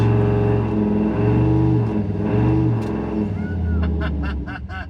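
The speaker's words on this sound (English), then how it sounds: "So now, I'm gonna hold the gas down." A drag car engine held on the transbrake drones steadily at raised revs, loud and close throughout, with the pitch shifting slightly and dropping off near the end.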